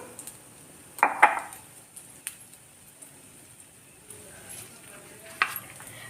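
Stirring chili powder into Sri Lankan mutton sambal in a pan: a few sharp spoon knocks and scrapes against the pan over a faint, quiet sizzle, with sparse gaps between strokes.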